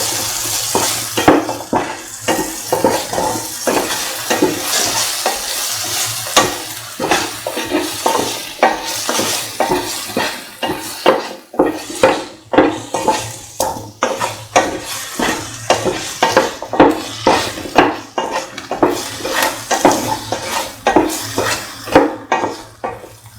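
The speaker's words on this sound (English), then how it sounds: "Put in the plantain or banana pieces." Plantain pieces are sautéed in a pan for lemon rice, with rhythmic spatula strokes scraping and knocking against metal over a continuous sizzle, loud and close throughout.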